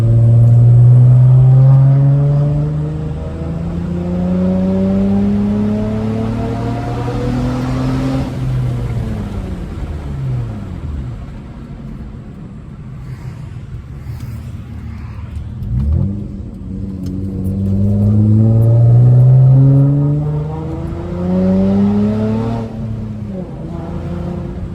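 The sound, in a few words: straight-piped V6 manual Honda Accord exhaust revving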